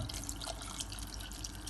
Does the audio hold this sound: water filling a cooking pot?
yes